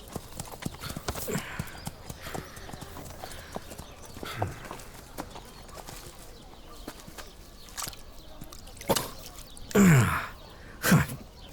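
Horse hooves clip-clopping at an unhurried pace, with scattered steps building to a few louder close thuds near the end, along with snorts and a brief whinny-like breath, no speech over it.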